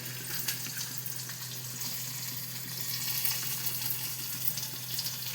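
Cumin seeds fry in oil for a guar and potato sabzi with green chillies, giving a continuous, even hiss at moderate volume, close by with no talk.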